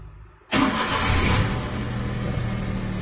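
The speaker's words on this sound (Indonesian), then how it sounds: "start engine." A car engine cranks and catches after half a second of near silence, then settles into a steady, fairly loud idle close by, during a fault-code diagnosis of an engine management system.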